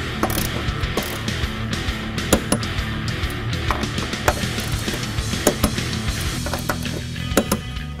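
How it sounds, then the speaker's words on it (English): A torque wrench ratchets steadily on the top bolts of a Ridetech coilover on a 2015-2020 Mustang, a dense run of rapid metallic clicks with sharper snaps scattered throughout, close and fairly loud. "we're going to torque these top bolts to 65 foot-pounds"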